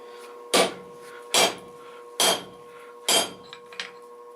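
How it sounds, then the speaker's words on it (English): A homemade cut-off tool works a rebar hook in four sharp, ringing metallic strikes spaced under a second apart. Each strike is loud and close and rings on briefly, followed by a couple of smaller clinks, with no speech. "we're going to use this cut-off tool I made to just cut off the hook"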